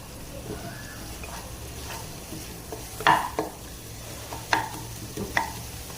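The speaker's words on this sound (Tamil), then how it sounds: "இஞ்சி பூண்டு பேஸ்ட்டு இதெல்லாம் நல்லா பச்சை வாசனை போகிற அளவுக்கு ஒரு நிமிஷம் மீடியம் ஃப்ளேம்லேயே வச்சு வதக்கிக்கலாம்" Ginger garlic paste sautés on a medium flame with a soft sizzle, broken by a few distinct scrapes and knocks of a spoon stirring in the pan.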